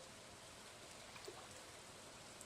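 Steady, faint rain hisses continuously while fishing in Stardew Valley, with a soft, even patter and only a few tiny drips standing out.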